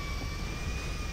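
Airplane engine in GTA V, a steady, loud jet-like roar with a constant whine, held without a break and with no talk over it.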